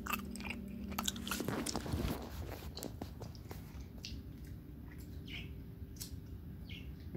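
Plant-based, sugar-free fish gummies being bitten and chewed close up, a few crisp bites followed by steady soft squishy chewing over several seconds, with no talking.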